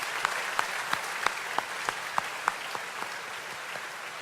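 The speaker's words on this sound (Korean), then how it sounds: "stand and receive the applause of the saints." A church congregation at the Assembly of the Lord gives sustained applause, a dense wash of many hands with a few sharp individual claps standing out regularly throughout, no voices over it.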